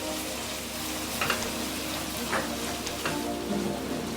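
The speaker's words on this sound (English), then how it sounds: "Keep on frying until the water dries up" Minced beef seasoned with salt, chili pepper, paprika and black pepper sizzles steadily in a pot, with a few scraping stirs breaking through the continuous frying hiss.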